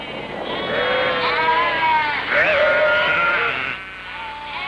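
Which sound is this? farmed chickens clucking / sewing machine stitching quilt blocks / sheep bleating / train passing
sheep bleating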